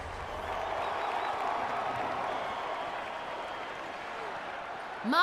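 An arena crowd in The Witcher 3 roars and applauds after a boss fight, a steady, dense wash of cheering held at a constant level that swells slightly at the very end.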